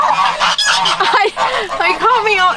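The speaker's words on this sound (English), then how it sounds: "There's a giant bird behind you?" A large goose honks loudly and repeatedly at close range, its harsh calls running continuously through the moment.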